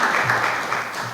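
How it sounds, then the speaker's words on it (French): An audience applauds a speaker at a political conference, a dense, even wash of clapping that stays steady for the whole short stretch with no voices over it. "Je vous demande quand même de l'applaudir."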